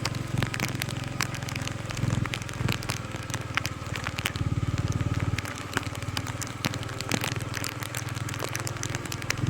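Heavy monsoon rain pours during a motorbike ride along village roads between Mahad and Mandangad, a dense steady hiss of rain with scattered crackling drops over a low engine rumble throughout.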